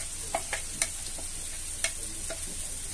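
Minced meat tossed into a pan and stirred, giving a soft steady sizzle broken by a few sharp scraping clicks from the utensil; no talking.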